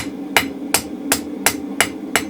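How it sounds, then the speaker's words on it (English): Six evenly spaced metallic hammer strikes ring out, a blacksmith's hammer bouncing on a round punch bar at a steady rhythm as the bar is rotated, over a low background hum. "just drop the hammer on it and rotate the bar"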